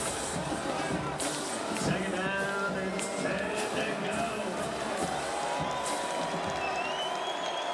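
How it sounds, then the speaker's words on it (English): Football crowd at Bobcat Stadium during an FCS quarterfinal between Montana State and Stephen F. Austin, a steady roar of cheering and applause filling the stands, with commentators talking over it throughout. "So this crowd here at Bobcat Stadium getting behind the Bobcats."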